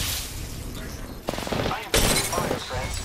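Bursts of rapid gunfire in an Apex Legends firefight, dense crackling volleys with brief pauses and a loud renewed barrage, while a player's voice mutters underneath.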